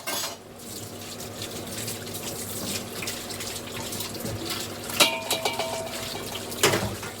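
A kitchen tap runs steadily into a sink while dishes are washed, the continuous stream broken by a couple of sharp clinks of utensils near the end.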